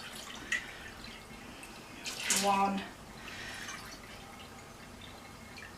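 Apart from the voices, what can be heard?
vegetable stock being poured into canning jars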